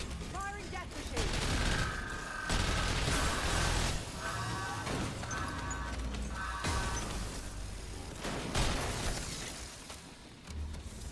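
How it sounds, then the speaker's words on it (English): The Death Machine minigun fires in Black Ops 6 Zombies at Liberty Falls: sustained bursts of rapid gunfire with short breaks between them, loud and dense, mixed with other game effects. "Firing death machine."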